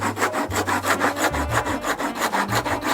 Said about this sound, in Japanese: こんなヤスリでこれだけこすってこれでしか削れないってことはね